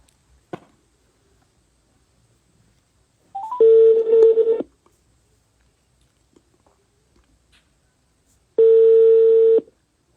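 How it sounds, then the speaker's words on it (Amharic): A telephone dials out with a quick click, then two long ringback tones sound several seconds apart with silence between, loud and close, with no talking. "እየጠራ ነው።"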